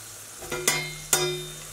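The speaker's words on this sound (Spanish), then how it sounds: "Lo pongo a fuego flojito porque si no el bacon salta mucho." Bacon fries gently in a pan over low heat, a soft steady sizzle broken by two sharp pops or stirring clanks, close and moderately loud with no voices.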